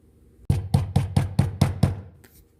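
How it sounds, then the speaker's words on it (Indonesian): Seven firm knocks on a house door come in a quick, even rhythm, close and clear against an otherwise quiet morning background. "Tampak seseorang mengetuk rumah di pagi hari itu."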